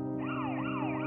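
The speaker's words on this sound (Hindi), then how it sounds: "पुलिस सायरन की चीखती आवाज हवा में गूंज रही थी।" A police siren wails loudly and close as a sound effect in an audiobook, sweeping up and down in a rapid, repeating rise and fall.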